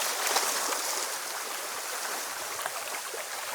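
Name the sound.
lake water and waves at Hartford Beach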